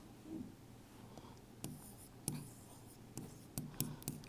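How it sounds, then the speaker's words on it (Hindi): Chalk or marker writing on a board during a lesson, heard as faint, scattered taps and short scratchy strokes over quiet room tone. "थोड़ा अच्छे से लिखते हैं।"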